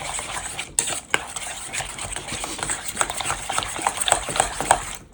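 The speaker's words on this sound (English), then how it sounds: "Okay, so let's get this all mixed together. Actually, you can use a spoon, a whisk, or whatever you want to do." A spoon stirs biscuits and gravy breakfast casserole ingredients in a bowl, with steady scraping and clinking strokes that come close and fairly loud, with no one speaking.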